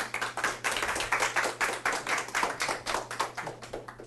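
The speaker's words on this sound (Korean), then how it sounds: "박수로 맞이해 주세요." An audience at a talk event claps to welcome a designer to the stage, a steady, moderately loud round of many hands that holds evenly for about four seconds.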